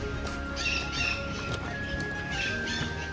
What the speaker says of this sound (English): You hear all these birds.